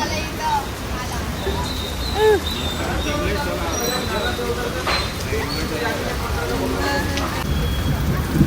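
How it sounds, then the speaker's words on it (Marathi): Steady rain patters down continuously with scattered drips during a power cut, while people talk underneath. "पाऊस सुरूच आहे अजून"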